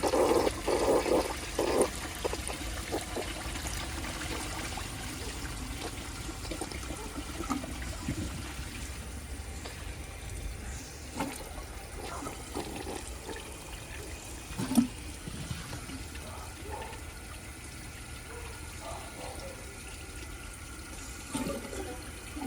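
A 1983 Gerber Mt Vernon toilet flushes a microfiber dish towel, giving a rushing swirl of water that settles into a long trickling refill, heard up close with no talking.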